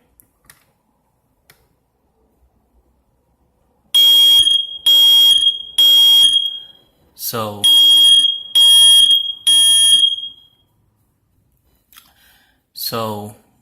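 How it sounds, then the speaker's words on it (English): A smoke detector's test button is pressed, and the alarm sounds in two bursts of loud, shrill repeated beeps, separated by a pause, with a brief spoken word and quiet clicks between. "we can give it a test by pressing this clear button right here"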